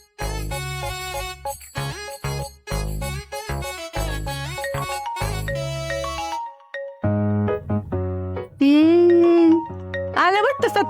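A mobile phone rings with a repeating melodic ringtone in short bursts for several seconds. Other tonal sounds and bits of voice follow.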